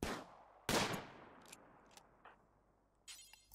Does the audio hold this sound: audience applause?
no